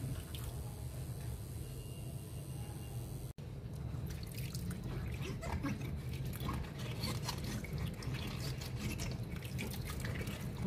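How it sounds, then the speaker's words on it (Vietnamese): Whole mustard green stalks are washed by hand in water, one at a time, to make naturally fermented pickled greens. Soft wet splashing, dripping and squishing run steadily at a quiet level, close by. "Mình lấy tay mình rửa trong cái bẹ này cho thật là kỹ"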